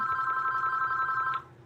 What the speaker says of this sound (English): Y'all heard how the phone ringing?